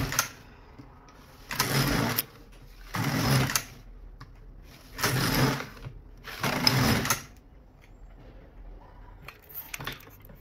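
A knitting machine carriage sweeps across the bed knitting the first row, producing four distinct whirring passes with short quiet gaps between, followed by a fainter pass at the end.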